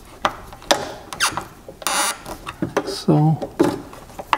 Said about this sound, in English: And then we can tighten up the rest of these bolts.